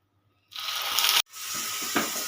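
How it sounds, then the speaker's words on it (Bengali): Onion paste hitting hot oil in a pan after bay leaf and white cumin tempering, a loud steady sizzle that cuts off briefly and resumes, close and continuous with no talking. "পেঁয়াজ পেস্টটা আমি এক মিনিট মতন ভালো করে কষিয়ে নেব"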